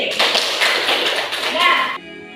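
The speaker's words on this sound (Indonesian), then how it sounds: "Aplaus untuk Sofi." Children in a classroom break into a brief burst of loud, close applause that stops abruptly, followed by quiet.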